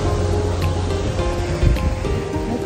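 Sea waves wash steadily against the shore at a seaside spot on Awaji Island, a broad continuous surf noise held close and moderately loud with no voices over it.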